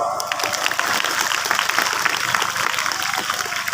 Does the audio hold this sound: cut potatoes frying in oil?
no